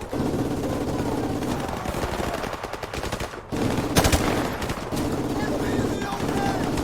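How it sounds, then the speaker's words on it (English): Gunfire in Call of Duty Modern Warfare Remastered, sustained machine-gun bursts rattle continuously with a brief lull and a sharp louder blast midway, dense and close throughout. "Takes a lot of fire from another building."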